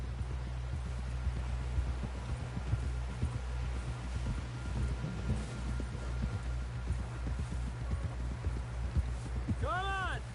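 A horse's hooves clip-clop steadily on the ground while being ridden in Red Dead Redemption 2, a close rhythmic patter over a low rumbling background, with a brief whinny-like tone near the end.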